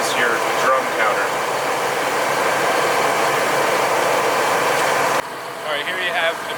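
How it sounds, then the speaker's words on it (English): A McNeilus 90-yard cement mixer truck with a 7-yard working capacity runs with a steady, loud, broadband mechanical roar throughout, dropping slightly in level near the end. "here you have the McNeelius 90-yard cement mixer"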